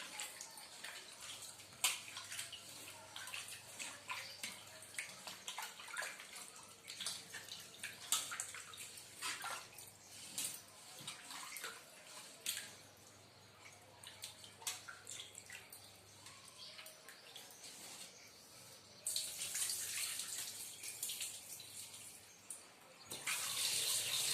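Freshly caught fish are rinsed under steady running water, a continuous splashing and gurgling stream from a tap or pour that swells louder near the end, with no talk.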